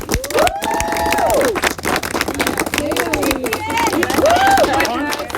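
Crowd at a Penn State Beaver athletics event claps and cheers for a women's team, a steady dense patter of applause with whoops and voices mixed in, sustained throughout.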